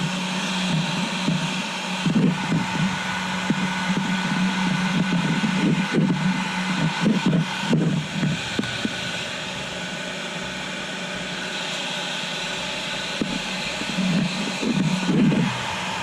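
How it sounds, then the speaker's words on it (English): A heat gun on a low setting runs steadily as a broad, even whoosh of blown air for the whole stretch, with faint low knocks and handling noises now and then. "I've just got the heat gun at kind of a low setting because I don't want to ruin the shock"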